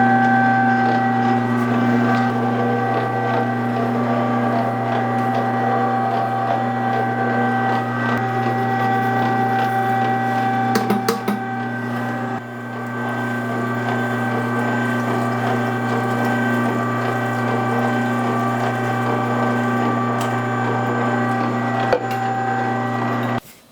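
Electric sausage meat mixer churning salted, spiced meat with water, a steady loud mechanical whir with gear-like clatter that runs continuously and alone throughout.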